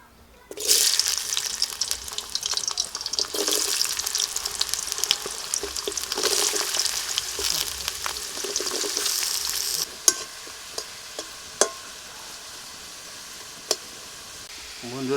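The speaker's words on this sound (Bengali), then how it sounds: "তেল গরম হয়ে গেছে, আমি আলুটা ভেজে নিচ্ছি ফার্স্টে" Potatoes frying in hot oil in a home kitchen for a cauliflower and potato dish, a steady loud sizzle with stirring scrapes for about ten seconds, then quieter crackle broken by a few sharp utensil clinks.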